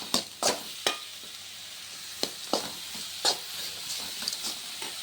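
Masala and spices sauté in a pan with oil, sizzling softly while a spoon scrapes and stirs in sharp, irregular strokes close up, with no speech.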